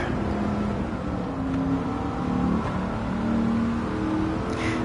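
A car in Gran Turismo 7, played in VR, cruises a circuit at an easy pace, its engine a steady droning hum that shifts pitch slightly as it runs, loud and continuous with no talk.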